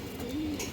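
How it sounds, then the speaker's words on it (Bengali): A female pigeon of an old green-necked breed gives a short, soft coo, close and alone over a steady background hum. "মাদিরা খুব চঞ্চল একটা কবুতর"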